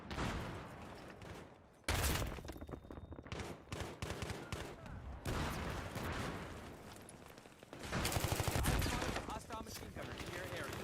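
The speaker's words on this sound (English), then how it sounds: "Hostile machine gunner in your area" Dense bursts of gunfire and blasts from a Battlefield 3 firefight on PS3, with loud, continuous rapid shooting that swells near the start and again toward the end, layered with explosions and chaotic battle noise.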